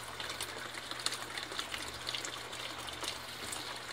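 A Colormaq 15 kg washing machine fills with water, a steady soft gushing and trickling with a low motor hum, faint and continuous, no voices.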